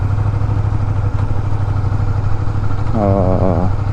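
A VTR motorcycle engine idles steadily in a parking area in Japan with a low, continuous rumble, and a brief voice surfaces near the end.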